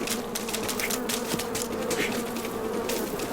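Wasps buzz in a jungle setting in the video game Metal Gear Solid Delta, a steady droning hum close by with rapid flickering wingbeat texture, continuous throughout with no talking over it.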